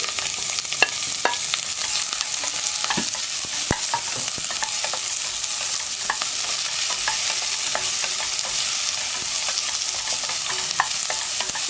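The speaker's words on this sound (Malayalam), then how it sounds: "വെജിറ്റബിൾസ് ഇട്ടിട്ട് നന്നായിട്ട് വഴറ്റിയെടുക്കുക." Chopped vegetables for a green peas stew sautéing in a hot pan, a steady close sizzle with frequent sharp clinks and scrapes of a spoon stirring.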